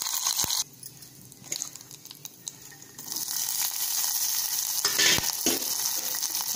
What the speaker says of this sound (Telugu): ఇప్పుడు మనం ఇందులో పచ్చిమిర్చి వేసుకుందాం